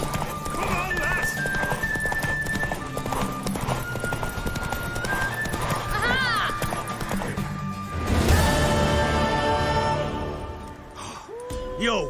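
Hooves of a galloping horse clip-clop steadily in The Witcher 3 during a horse race, with whinnies, game music and speech over them.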